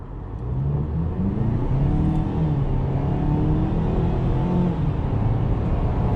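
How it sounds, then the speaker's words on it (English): A 2022 Ford Maverick pickup accelerating in sport drive mode, its engine rising steadily in pitch and holding gear with a smooth, continuous whirring drone from inside the cab. "When you put this in sport, it changes the way this vehicle responds to throttle"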